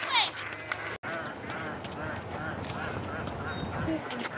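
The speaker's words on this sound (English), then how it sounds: "The ducks are evil." Ducks quack in a busy outdoor scene, their calls scattered under steady chatter and movement noise, with people talking nearby throughout.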